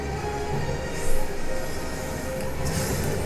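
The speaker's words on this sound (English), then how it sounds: "Apparently when you're inside there, it sounds like this bubbling effect" A continuous dense rumbling wash fills the inside of the hydro core in the Void Ark in FFXIV, a steady bubbling ambience with a brief louder swell, heard alone without talk.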